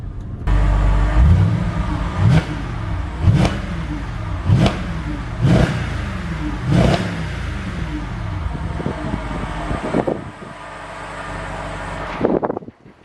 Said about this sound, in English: She sounds fine, engine sounds nice and fruity.